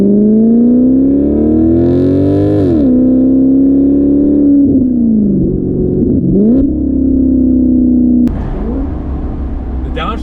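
A Maserati GranTurismo Sport V8 convertible, top down, revs loudly and close up, its engine note climbing and falling as it blips on downshifts, ending in a rougher, noisier burst.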